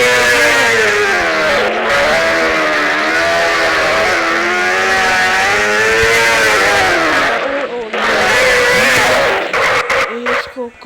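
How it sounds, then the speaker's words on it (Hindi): Motorbike engine in Xtreme Motorbikes video game revving hard during a burnout, a loud sustained whining drone with wavering pitch that drops out briefly near the end, while someone talks over it. "अब मारेंगे हम ज़्यादा से बर्नआउट।"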